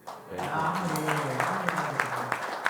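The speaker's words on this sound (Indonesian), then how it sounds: "Tepuk tangan untuk" Applause rises from an audience at an Indonesian inaugural lecture, moderate and continuous, with a voice speaking over the start of the clapping.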